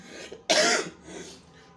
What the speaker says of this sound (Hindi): सॉरी, मुझे खांसी बहुत ज़्यादा हो रही है